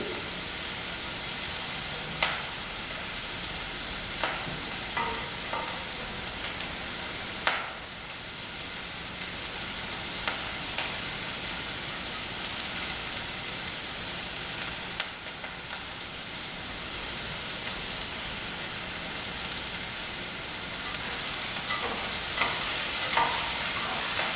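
Onions fry in a pan for brown rice with herbs, a soft continuous sizzle broken by occasional scraping and clicking as a utensil stirs them, with no talk.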